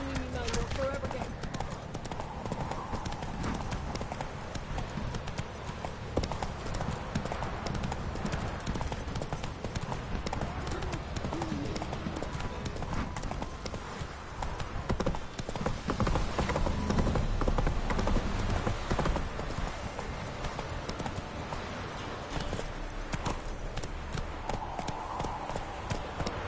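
Horse hooves clip-clopping steadily in a PS4 video game, a continuous close rhythmic beat of hoofsteps running throughout, with voices speaking over parts of it.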